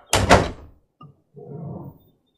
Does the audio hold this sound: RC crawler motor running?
no